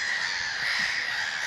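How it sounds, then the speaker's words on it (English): A huge flock of thousands of knot roosting and bathing on a tidal lagoon at Snettisham keeps up a dense, continuous high-pitched twittering chatter, steady and loud throughout. "Just thousands of knot."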